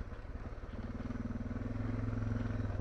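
A Suzuki DR650 dual-sport motorcycle climbs a steep loose-sand slope in second gear, its single-cylinder engine a steady close thumping drone that rises in pitch and loudness as it pulls uphill, with no talking.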